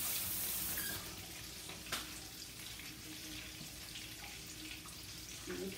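Water runs from a kitchen tap as hands are washed, a steady close splashing hiss with a slight change in flow partway through.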